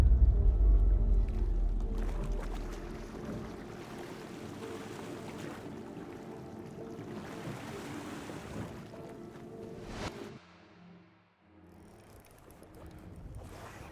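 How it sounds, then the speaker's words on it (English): Gusty wind buffets the microphone while rough water slaps and churns around a fishing boat during a fishing tournament, loud at first then easing, with a brief lull near the end. "It's so windy and wavy, I can't even get over here."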